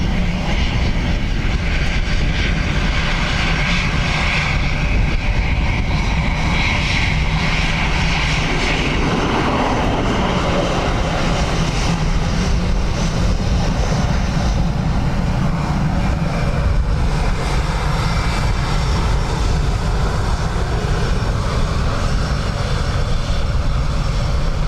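A Lufthansa airliner landing at Dublin Airport on runway 28 left, its loud jet engine roar rising and falling steadily for the whole stretch with no voices.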